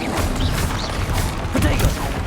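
Spell explosions from Bombarda and Repulso in a Hogwarts Legacy battle against a hulking brood creature, dense booming crashes and thwacks layered over constant combat noise and game music, with a clustered heavy impact near the end.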